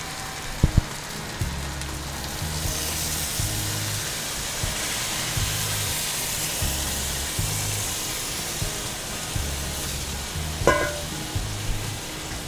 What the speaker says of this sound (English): Add your brisket back to the same pan. And it's time to add that beautiful liquid barbecue sauce.